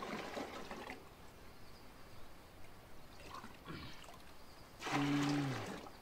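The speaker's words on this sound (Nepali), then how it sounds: "ल, त्यसो भने हामी पानी हालौँ।" Water is poured into liquid manure to dilute it, heard as a few quiet gushes and splashes in separate bursts, the last one fuller, against a low background.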